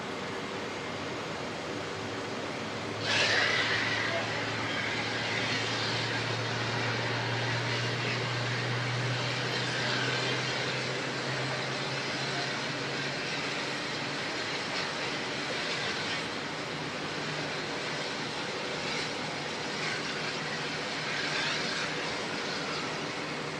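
A Qantas airliner at Auckland Airport gives a loud, continuous jet engine roar with a steady low hum, heard from outdoors at a distance in crosswind conditions, with no talk.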